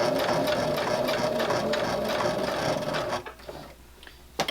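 A sewing machine runs steadily while stitching a fabric jar lid gripper, a close continuous whirring hum that stops abruptly at the corner, followed by a couple of small handling clicks.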